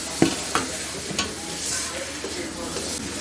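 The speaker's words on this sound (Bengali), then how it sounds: "এখন এখানে আমরা এই মাছগুলো, তরকারি মাছটা ভেজে নিব" Hilsa fish pieces frying in a wok with turmeric and salt produce a steady sizzle, with a few clinks and scrapes of a spoon stirring, close by and without talk.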